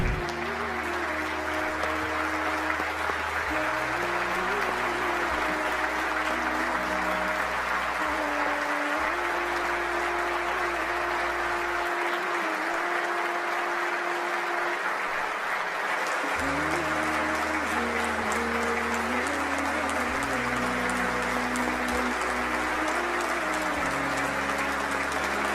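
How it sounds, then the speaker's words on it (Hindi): Steady, dense applause fills the Turkish parliament chamber as members give a standing ovation to welcome Palestinian president Mahmoud Abbas, continuous and loud throughout with a low droning undertone. "तालियां बजाकर स्टैंडिंग ओवेशन देकर स्वागत किया गया था"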